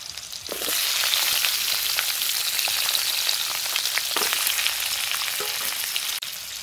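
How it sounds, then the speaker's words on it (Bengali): Potatoes and eggplant fry together in mustard oil in a wok, giving a loud, continuous sizzle with sharp crackles that start after a brief quiet moment. "কড়াই দেব সরিষার তেল, আলু আর বেগুন একসঙ্গে ভেজে নেব।"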